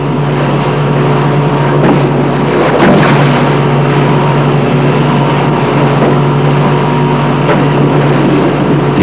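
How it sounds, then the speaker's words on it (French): Motorboat engine noise played underwater into a pool for a marine-mammal experiment, a loud, steady droning rumble with a brief surge in the middle, continuous throughout without voices. "Falco imagine de transmettre dans la piscine le bruit d'un bateau à moteur"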